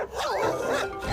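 A single dog bark or short growling yelp, close and loud, lasting about a second.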